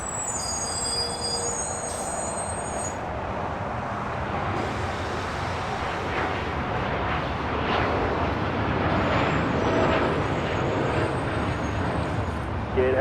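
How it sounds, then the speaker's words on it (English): An Air Tahiti Nui Boeing 787-9 Dreamliner takes off from LAX bound for Paris, its broad jet roar building gradually and swelling louder toward the end, heard from a distance with background traffic hum. "This is Air Tahiti Nui Flight 8 taking off to Paris on a 787-9 Dreamliner"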